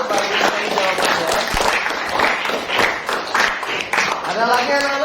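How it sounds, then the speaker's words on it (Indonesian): A classroom of students claps for a classmate named Amel, a dense burst of applause mixed with overlapping children's voices and chatter, lively and close. "beri tepuk tangan untuk Amel"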